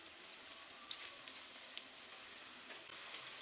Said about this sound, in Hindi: अब हम इसको करेंगे जी फ्राई।